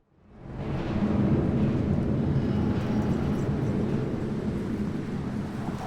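Aircraft passing overhead in the video game Deus Ex: Mankind Divided, a deep roar that swells in quickly over the first second and then holds loud and sustained, thinning only slightly near the end.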